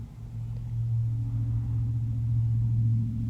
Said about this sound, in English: that's a truck going up the street